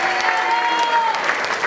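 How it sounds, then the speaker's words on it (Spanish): Audience applause at a dance gala, a short loud burst of many people clapping together, with a voice briefly heard over it. "Fuerte el aplauso."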